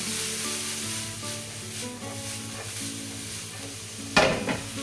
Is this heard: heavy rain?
no